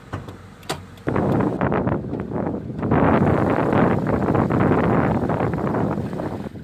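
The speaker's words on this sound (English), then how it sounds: "alright, let's go ahead and pop the hood." A 2015 Subaru Forester PZEV has its hood popped, with a few sharp clicks early followed by a loud, sustained rustling and rattling of handling noise near the microphone.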